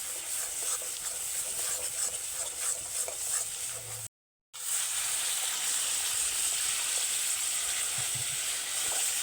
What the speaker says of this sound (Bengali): 1-2 সেকেন্ড মতো নেড়ে অল্প পরিমাণে জল দিয়ে মশলাটা ভালোভাবে কষে নেব।